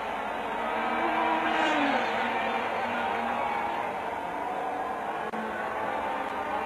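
Racing karts run on a track during the Hong Kong Kart Championship race, a continuous droning engine whine from several machines at middle distance, rising and falling slightly as they lap.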